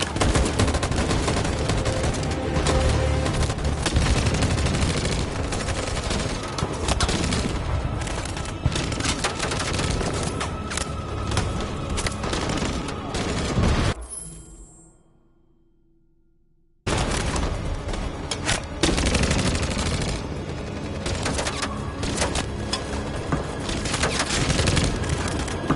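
Heavy video-game gunfire from Detroit: Become Human, loud sustained volleys with splintering impacts that drop out abruptly into near silence for a couple of seconds before the shooting resumes at full force.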